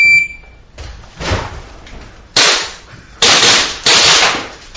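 Pistol shots ring out at a practical pistol shooting competition, several sharp cracks spaced irregularly with reverberant tails, preceded by a brief electronic start beep.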